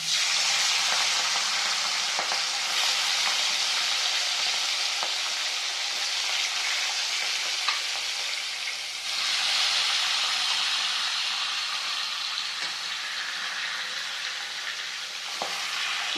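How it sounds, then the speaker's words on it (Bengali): Two fish heads fry in hot oil in a kadai for moong dal, a loud, steady, roaring sizzle with a steamy hiss, swelling midway and dotted with occasional spits and pops, heard close and alone. "এরপর আমি মাছটা ভেজে নিই।"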